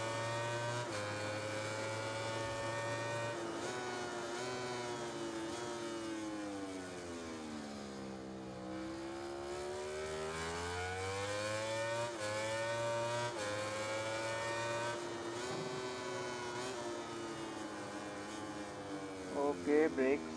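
Simulated racing motorcycle engine in the MotoGP 19 video game, whining high and rising and falling in pitch through gear changes and throttle shifts, steady and prominent for twenty seconds.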